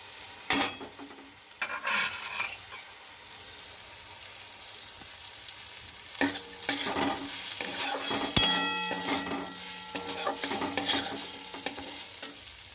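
Grated coconut and potato pieces sizzle in a hot pan while a spoon stirs and scrapes them in repeated strokes, with louder clatters now and then; close and steady, and no one speaks.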